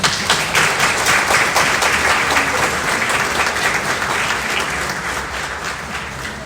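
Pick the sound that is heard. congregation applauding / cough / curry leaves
congregation applauding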